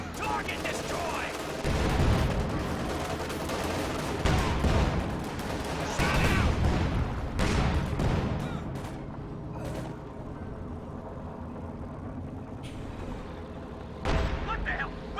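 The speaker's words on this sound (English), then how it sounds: "Where's that coming from? Oh, flak panzer here from Kenker." A flak panzer opens fire in a Company of Heroes 2 2v2 match, rapid bursts of anti-aircraft gunfire and booms mixed with other battle noise, punctuated by a few louder shots, with someone talking over the action.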